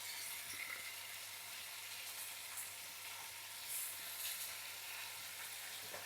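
Tomato pieces and masala paste frying in a pan, a steady, fairly quiet sizzle throughout with a faint stirring scrape near the end.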